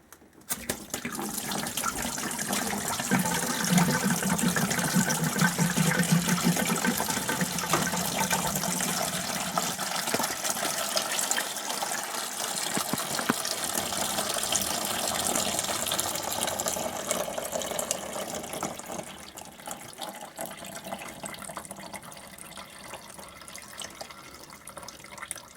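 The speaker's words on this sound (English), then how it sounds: "There we go, that's draining out nicely." Coolant draining from a Suzuki GSX1300R Hayabusa motorcycle radiator, a steady close trickle and splash of liquid pouring into a container, easing slightly toward the end.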